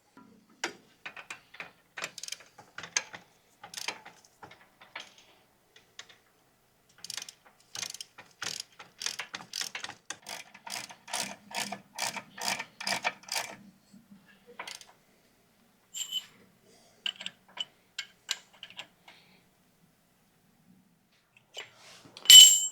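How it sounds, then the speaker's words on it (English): Ratchet wrench tightening brake caliper bolts on a 1999 Ford Ranger: long runs of quick, crisp clicks in bursts with short pauses, close and fairly loud, no talking. "you can go ahead and tighten down those bolts really tight"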